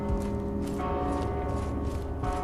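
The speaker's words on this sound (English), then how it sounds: "The fact that the bell's ringing, though, it's very... That's so creepy." A bell rings with a sustained, resonant metallic tone that keeps sounding through a dim ambient wash in the Mortal Shell video game, with no talk over it.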